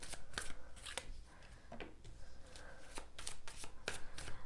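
Tarot cards are shuffled and drawn at close range, with repeated riffling bursts and soft slaps of cards against the deck.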